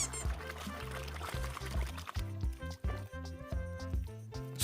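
Water pours and splashes as fish are released into a snakehead pond, a close gurgling, sloshing flow in uneven bursts.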